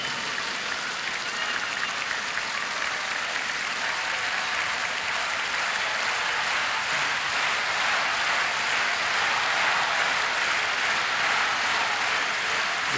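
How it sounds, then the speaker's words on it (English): A German crowd at a China versus Germany table tennis match at the 2006 World Championships claps steadily throughout, a dense, even wash of applause in a large arena with no commentary over it. "German crowd trying to lift Christian Suss"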